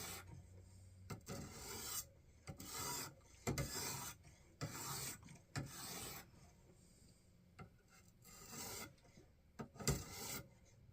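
A knife blade is drawn across the rough stone of a Wasabi-type knife sharpener, giving close, rasping strokes in an uneven repeating rhythm, roughly ten scrapes with short pauses.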